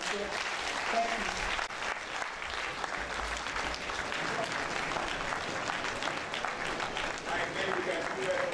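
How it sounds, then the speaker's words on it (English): A short round of audience applause after a public medical lecture on curing cancer, steady crowd clapping at moderate level with some voices murmuring underneath throughout. "Let's do a very short round of applause, please."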